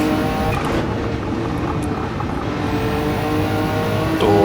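A race car engine in Gran Turismo holds a loud, steady high-revving drone from close by, rising slightly as the throttle opens near the end, with no one talking.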